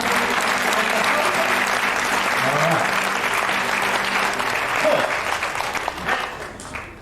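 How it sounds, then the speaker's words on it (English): A large crowd applauds the ushers at a campaign event, sustained loud clapping that carries on for several seconds, with a few spoken words from a man over it before it tapers at the end. "Give them another round of applause."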